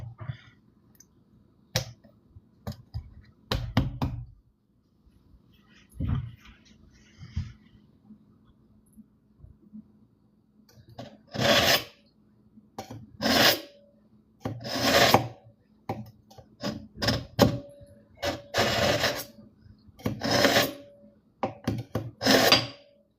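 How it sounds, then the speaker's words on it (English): A knife sharpening tool works against a blade over a quartz countertop, making sparse clacks at first and then a long series of loud, close rasping strokes in regular bursts separated by short silences. "We don't want it clacking against the quartz countertop here."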